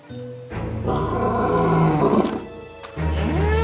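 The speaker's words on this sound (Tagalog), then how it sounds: "Ang tunog ng leon ay parang nasasaktan." A wounded lion roars in pain in long, loud, strained bursts: a sustained roar, a brief pause, then another roar rising again, close and alone.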